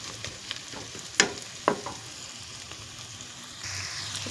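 Chinese rice dumplings sizzle steadily in hot oil, a close, even crackle with a couple of sharp clinks from a utensil.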